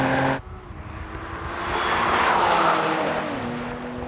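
Drag race between a Mercedes AMG C63, BMW M3 Touring and Audi RS4 Competition, an engine roar swelling under hard acceleration with rising pitch and a gear change, heard close without speech.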